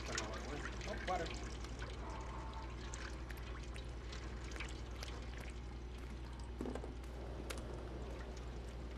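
Water running and trickling in the video game Stray, a low steady pour with drips and small splashes throughout, joined by scattered clicks and faint game sounds.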